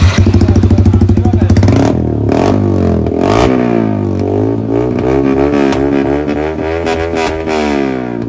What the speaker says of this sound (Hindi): ऑस्टिन रेसिंग लगाओ, इसका देखते हैं साउंड कैसा है।